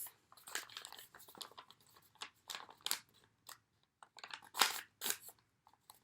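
Construction paper being folded in half for a butterfly craft: a string of crisp, close crinkles and creasing scrapes in uneven bursts, with a louder crunch near the end and no talking.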